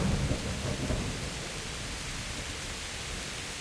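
Heavy rain with thunder in a steady ambience: a dense, hissing downpour fills everything, with a deep rumble of thunder rolling at the start before the rain continues evenly on its own.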